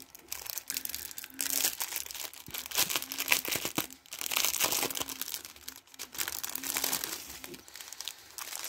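Crinkly plastic packets of diamond painting drills being handled and torn open, a close, quiet rustling in several bursts with short pauses between.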